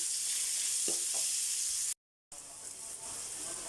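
Ginger sautéing in a hot pan for a Filipino soup, a steady bright sizzle with a couple of stirring scrapes and a brief dropout partway through.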